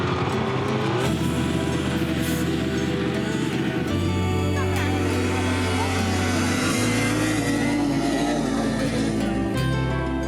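A snowmobile engine roars at full throttle during the Arctic Man race, a loud, sustained drone that shifts pitch in steps as it climbs. Voices talk over it throughout.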